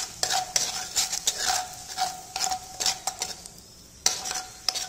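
Spices like turmeric, chilli powder and salt being stirred into hot oil in a pan, a spoon scraping and clinking in short repeated strokes over a soft, steady sizzle, close and fairly quiet with no talking.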